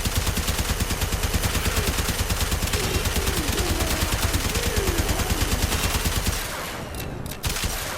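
The Fulmin weapon in Warframe firing in a rapid, steady automatic stream of close, loud shots for about six seconds before it stops abruptly and only faint game ambience remains.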